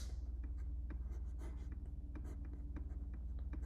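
Pen writing out solution notes on paper for a competitive programming problem, a steady run of short scratchy strokes close up, quiet and continuous with no talk.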